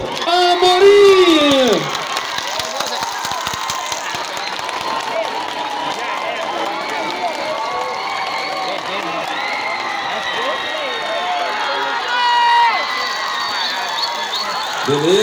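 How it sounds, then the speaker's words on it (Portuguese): A crowd at a shrimp festival queen pageant in 2022 applauds and cheers the new festival queen, with loud whoops and shouting voices mixed into sustained clapping that swells near the end. "Para o aplauso de vocês! Para a nova rainha do Festival do Camarão desse ano de 2022."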